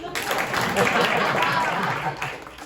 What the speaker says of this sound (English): Clap if you're somebody that thinks hiking is a lot of unnecessary walking.